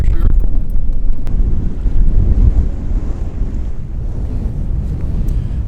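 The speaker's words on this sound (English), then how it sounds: "Got some heavy wind today" Heavy post-frontal wind gusting at about 25 mph across an open Minnesota lake on a musky fishing morning, a loud continuous low roar buffeting the microphone, with wave wash mixed in and no voices.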